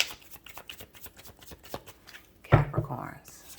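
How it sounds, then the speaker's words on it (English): Tarot cards riffle through a rapid run of crisp flicks, then end in a louder bridge-and-cascade flurry at the close of a shuffle, close and clear. "Capricorns, last shuffle."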